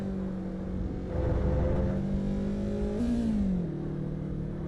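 Race car engine in Assetto Corsa EVO drones steadily under hard acceleration, then its pitch rises and dips sharply as the driver shifts, a continuous near mechanical howl with no talking.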